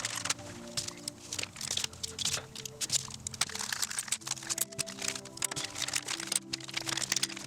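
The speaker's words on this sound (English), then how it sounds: "they are all wrapped in plastic, as you can tell, to prevent damage from shipping. And okay, so let's actually cut these open." Crinkling and crackling plastic wrapping is cut open from GepRC Mark 5 Pro carbon fiber freestyle drone frame parts, with irregular close rustles, snips and crunches running steadily throughout.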